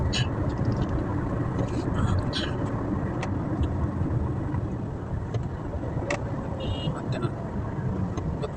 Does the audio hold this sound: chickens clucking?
no